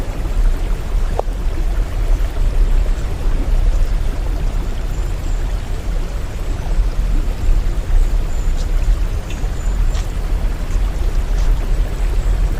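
Dampalik Falls in Barangay Lalakay, Los Baños, Laguna, a steady broadband rush of falling water, constant and enveloping with no talk over it.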